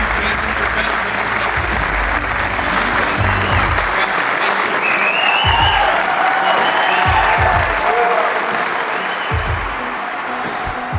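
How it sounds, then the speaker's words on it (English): Crowd at the Best Ranger Competition breaking into sustained applause and cheering, dense clapping that carries for about ten seconds, with a few whistles and shouts rising above it before it slowly tapers off. "please give a round of applause for the very best of the best"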